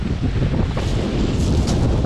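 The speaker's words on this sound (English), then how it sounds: "Might not be able to hear me, it's a bit windy." Strong wind on a beach near Hastings roars across the microphone in a constant loud rumble, with faint surf beneath it.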